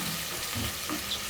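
Onions browning in a pot for pilau, a soft steady sizzle close by with faint stirring scrapes, brief and fairly quiet, no voices.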